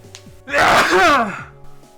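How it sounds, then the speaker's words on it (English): A single loud, close sneeze bursts out after a brief intake of breath, with no talking around it. "Hold on, I'm going to sneeze."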